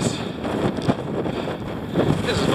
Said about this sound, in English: the wind is behind me now, and the gusts have pushed me along quite nicely